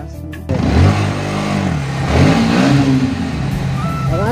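A Bajaj Pulsar NS 125 motorcycle engine starts up and revs hard nearby, the pitch climbing and falling through several throttle blips before settling into a loud, steady idle.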